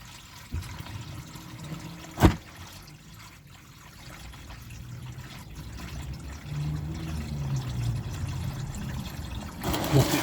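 Liquid drains from a Land Rover with a 2.25 diesel engine into a filling bucket, a soft continuous trickle and pour that grows fuller over time, heard close, with a single sharp knock early on.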